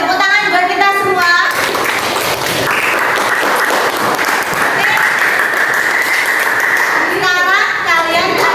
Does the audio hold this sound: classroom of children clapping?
yes